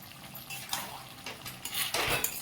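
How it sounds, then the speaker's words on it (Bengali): Cauliflower and potato curry with yogurt stirred in a pan, a steady close scraping and soft clatter of a spoon against the metal, with a few louder strokes and no voices. "এবারে ভালো করে একটু নাড়াচাড়া করে নেব"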